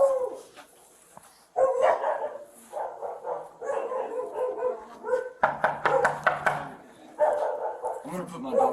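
A dog barks and yips indoors in a home during a tense police encounter, with a few sharp barks and whimpers heard under and between raised human voices and talk.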